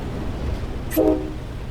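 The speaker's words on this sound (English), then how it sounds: "looks like we're going to be stopping the train over the crossing area here" An F40PH-3C diesel locomotive in Train Sim World 2 rolls to a stop: a steady low rumble carries on throughout, with a brief tonal burst near the middle.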